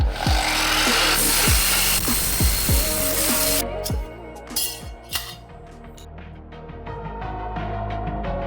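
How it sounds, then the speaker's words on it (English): A hand file rasps the burrs off the freshly cut edge of a cheap roller blind in several quick, close strokes, followed by lighter scattered clicks and handling noises. "Maybe I'll get a file under that just so it doesn't catch on anything."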